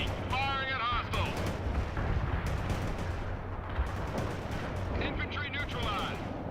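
Rapid gunfire and missile launches crack through a World in Conflict battle, dense bursts stacking over continuous combat noise, with radio-style voices calling out orders throughout.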